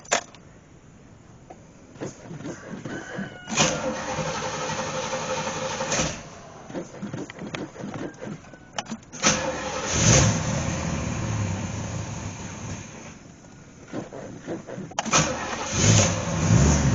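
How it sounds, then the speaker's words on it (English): A classic car engine, not run for a while, cranks and catches on a cold start, then settles into an uneven idle with occasional revs, heard close and alone. "This car hasn't been started in a while, so this can be a cold start video."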